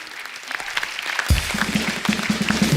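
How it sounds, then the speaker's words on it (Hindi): Studio audience applause at a comedy talk show, building from a faint patter into steady, dense clapping from a large crowd that continues to the end. "तो एक बार जोरदार तालियां हो जाए"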